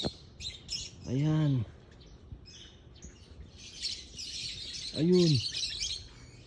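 Two short lovebird chirps stand out, one early and one near the end, over a steady background of outdoor noise, with a person speaking between them.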